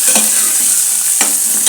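Chicken masala curry, Rayalaseema style, frying in a pan with a steady loud sizzle, broken by two distinct scraping stirs of a spoon against the pan.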